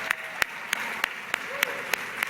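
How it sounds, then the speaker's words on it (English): Audience applause at a Charlotte political event on reproductive rights, heard as sparse, spaced individual claps ringing out roughly every third of a second over a steady crowd murmur. "So again, can we please applaud her?"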